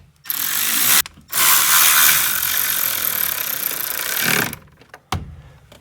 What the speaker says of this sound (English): I'm going to go ahead and put these two screws in here.